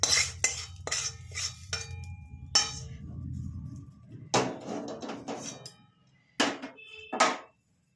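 A spoon scrapes and clinks against a bowl while fried eggplant is mixed into onion and yogurt, in short irregular bursts of stirring with pauses between them, close and moderately loud.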